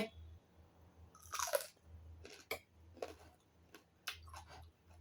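Someone eats a Thai lunch of rice with frog, with close, crunchy bites and wet chewing in uneven bursts, and no talking.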